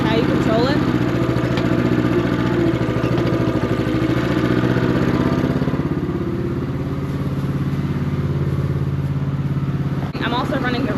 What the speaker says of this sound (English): It's got the original Honda engine on it. It's just a 9 horsepower engine.